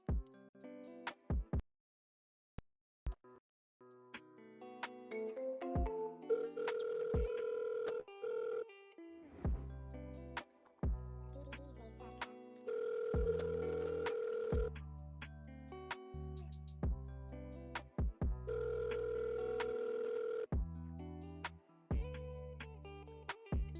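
Telephone ringback tones repeat in steady bursts on a call about to roll over to voicemail, with a few short electronic beeps and gaps between the rings, fairly clear and without talk.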